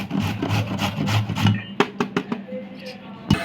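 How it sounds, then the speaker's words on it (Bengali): Carrots grated by hand for a carrot semai dessert: a run of rough rasping strokes up close, then a few sharp knocks and clicks from the grater and bowl, with no talking. "আমি গ্রেট করে নিচ্ছি"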